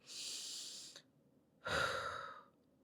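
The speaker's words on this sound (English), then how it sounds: "I need you to take a deep breath" A deep breath taken in and released: a long breathy inhale of about a second, a short pause, then a slightly louder, airy exhale, close and alone with no talk.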